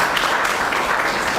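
Audience applause at a youth mock district council event, dense and fairly loud, sustained evenly through the whole moment with no distinct single claps.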